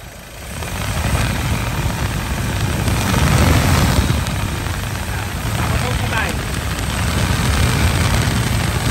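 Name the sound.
car engine running with clutch fan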